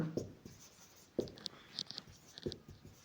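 A pen writing out a math proof on paper, scratchy strokes and taps in short bursts with quiet gaps, close and fairly soft.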